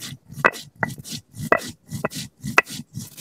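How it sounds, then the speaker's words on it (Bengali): Spices are ground with cumin on a grinding stone, heard as a steady series of sharp, close knocks and scrapes, about one every half second, alone with no talking. "এবার মশলাপাতি বেটে নেবো"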